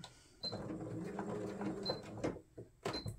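A sewing machine runs a straight stitch through fabric in quick, quiet bursts of mechanical whirring, with short pauses and soft clicks between runs.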